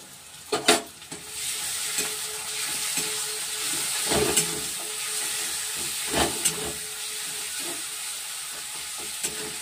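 Green chili and garlic paste fries in a pan for chicken masala, a steady hiss and sizzle with scattered stirring clatters and scrapes throughout.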